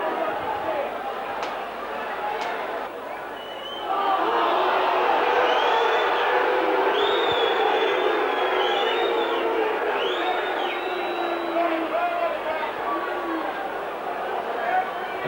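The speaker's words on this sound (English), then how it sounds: "Crowd booing again because they've just seen a replay on the diamond screen here" Rugby league stadium crowd at a 1997 Wigan versus Brisbane club match, a broad sustained roar of booing and jeering that swells and holds loudly for many seconds, with a commentator speaking over it.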